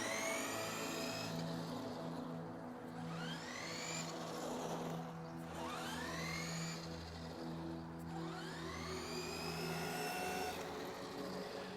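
A 1/10 scale four-wheel-drive monster truck's 21-turn electric motor runs wide open in reverse, giving a continuous whine with rising pitch sweeps as it repeatedly spools up, moderately close and without speech.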